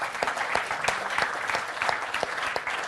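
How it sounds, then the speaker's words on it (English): A small audience claps steadily, the hand claps dense and lively, sustained throughout with no voices on top. "give yourselves a round of applause"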